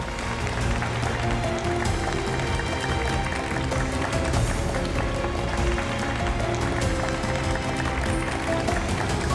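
An audience applauds a contestant at a Quran recitation competition, a sustained, even patter of many hands clapping that fills the whole stretch.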